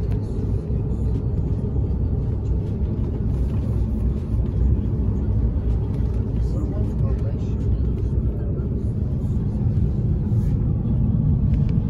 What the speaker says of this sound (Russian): Сегодня мы на такси решили ехать.